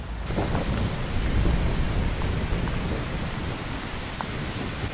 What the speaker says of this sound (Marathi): वाऱ्याच्या वेगाने पाऊस पडतोय